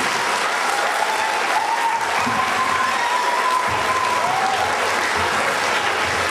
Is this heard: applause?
yes